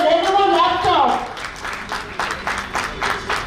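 An audience at a national convention's valedictory session applauds a laptop prize sponsor. A voice speaks briefly at the start, then a steady wash of clapping from a crowd continues at moderate volume with uneven swells.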